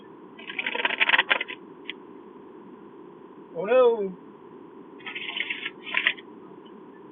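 A tarot card deck is bridge-shuffled up close in two quick riffling bursts separated by a pause, with a voice speaking briefly between them.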